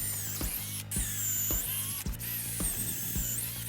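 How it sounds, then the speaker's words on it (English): A power drill bores a series of holes around a tree trunk, with a steady high motor whine broken by several short bursts and pauses as each hole is started, close and loud. "And then drill a series of holes around the trunk."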